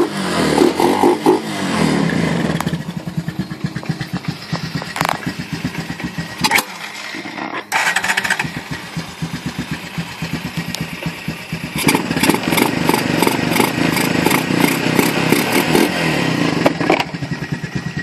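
A Honda Recon 250 ATV fitted with a snorkel starts and idles with a close, chugging single-cylinder thump, cutting out briefly before revving up into a loud, steady rumble.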